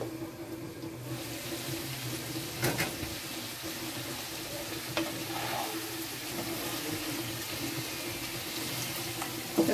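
Hilsa fish curry with beans, potato and cauliflower sautéing in a pan, a steady soft sizzle with occasional stirring scrapes and clinks, close and moderately loud, no talking.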